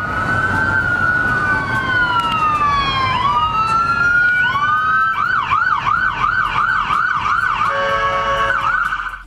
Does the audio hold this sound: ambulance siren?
yes